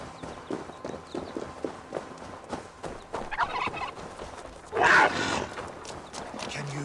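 A turkey creature in the video game Assassin's Creed Valhalla lets out a short, loud gobble over background game sounds and ambient noise.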